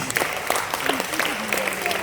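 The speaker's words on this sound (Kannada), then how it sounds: "Give a claps to her. ಜೋರಾಗಿ ಚಪ್ಪಾಳೆ ಪ್ಲೀಸ್" An audience claps for a magician on stage at Chowdaiah Memorial Hall, with dense steady applause as someone speaks over the clapping.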